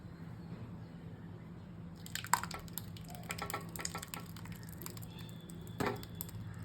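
Thick custard is poured over green and red grapes and other fruit, giving soft, faint, wet dripping and splattering that starts a couple of seconds in and continues quietly, with no one talking.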